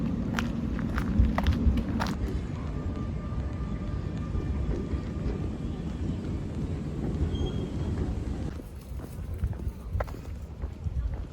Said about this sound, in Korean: 트램이 공원 안에서 나오는데